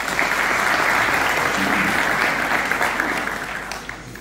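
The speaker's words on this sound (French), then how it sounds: "S'il vous plaît, vous applaudissez." An audience applauds, dense clapping at full strength that slowly thins and fades toward the end.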